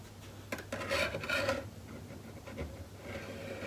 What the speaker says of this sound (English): So get my scriber look, and I'll just scribe along this edge.